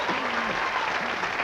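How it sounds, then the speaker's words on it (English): Studio audience applause on a 1994 late-night talk show, a short, even burst of many people clapping with a brief voice underneath. "Hey, there's something to applaud."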